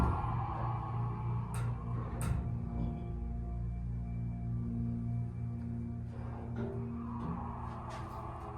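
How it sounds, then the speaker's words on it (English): Schindler RT 300A hydraulic elevator motor at a library running as a steady low hum and drone, with a few faint clicks and knocks over the top, no talking. "let's listen to the motor."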